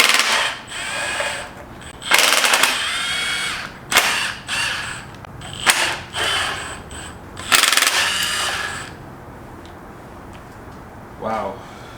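A power tool whirs in several sharp bursts while undoing the heat shield bolts on a car engine, each loud run separated by brief pauses, followed by a faint ratcheting tail.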